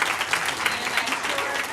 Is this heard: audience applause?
yes